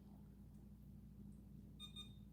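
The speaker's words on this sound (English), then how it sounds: "that little beep you just heard was the sound it makes when it successfully calibrates" A gemstone tester beeping after calibrating, a short pair of bright electronic tones near the end, fairly faint, over a quiet steady hum.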